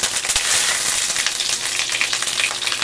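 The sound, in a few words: cooking oil sizzling on an Astron infrared cooktop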